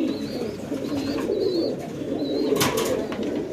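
Pigeons cooing at a pigeon sale, several soft rolling coos repeating close by over a low murmur of background noise and rustling.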